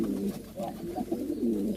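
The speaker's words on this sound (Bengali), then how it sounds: "লফটের কিছু কবুতর গোসল করানোর জন্য দিলাম" Loft pigeons coo steadily around a bathing session, a close, continuous murmur of overlapping low calls from several birds.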